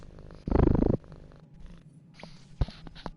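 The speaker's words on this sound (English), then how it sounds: "One of the cats came over to say hi." A cat purrs close by in one loud, rhythmic burst of about half a second, followed by quieter background sounds and a brief thump.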